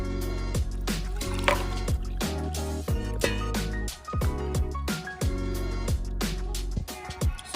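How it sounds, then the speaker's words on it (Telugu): Freshly pressed ABC vegetable juice with cucumber is poured into a glass, giving close, rhythmic gurgling drips and splashes as the liquid fills, with no one speaking. "ఇప్పుడు దీంట్లో జ్యూస్ పోస్తాను అనమాట."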